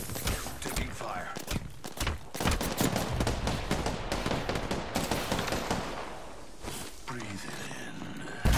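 Dense bursts of gunfire in a battle royale shooter, with sharp repeated shots and scattered footsteps, loud and close at first before thinning out toward the end, while voices talk over parts of it.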